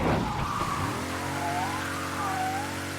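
Car driving and skidding in the video game Mafia III: Definitive Edition, a steady engine drone with drawn-out tire squeals sweeping up and down, loud and close throughout.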